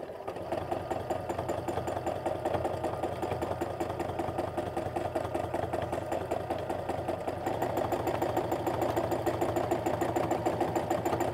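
A sewing machine stitching a free-motion stipple meander on a quilt, its needle running in a fast, even mechanical chatter that holds steady and close throughout, slightly louder near the end.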